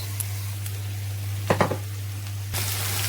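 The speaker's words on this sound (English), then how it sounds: "So I have about half a kg of lamb mince, which I'm going to add." Lamb mince frying with onions in a pan, a low steady sizzle under a constant hum, with a couple of quick stirring clatters midway and a louder burst of frying near the end.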